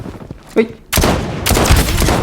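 SVD sniper rifle gunfire in the shooter game Blood Strike, a sharp loud shot followed by a dense, sustained run of rapid firing close up, with brief talk faintly underneath.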